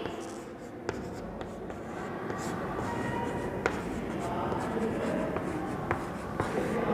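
A pen or pencil writes on paper during a class 8 maths lesson, making a continuous close scratching texture with occasional taps, over a steady room hum.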